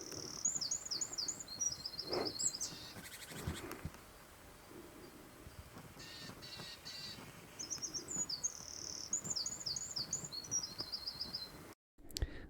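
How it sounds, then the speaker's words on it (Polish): A great tit calls from trees at the edge of woodland near Zakopane in late summer, with repeated clear bursts of high, bright notes, fairly close, over a quiet outdoor hiss with occasional rustles and insect buzz. "oczywiście musiała się trafić sikora bogatka. Bardzo ciekawski ptak."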